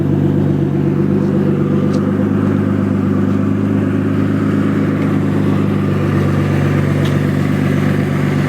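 Turbocharged BMW E36 M3 engine droning steadily under load at close range, a loud continuous low rumble with a rough, pulsing texture, heard from inside the car.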